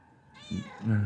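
A cat meows once, a rising then falling call, close and fairly loud, with no talking over it.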